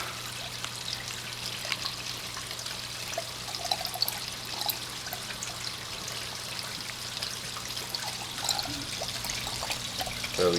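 Water trickles steadily through the emergency siphon of a CPR CS102 aquarium overflow being converted to a Herbie setup, a faint continuous close-up dribble over a low pump hum.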